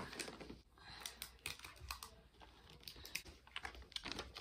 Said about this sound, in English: Get it all tight, and then put your tape on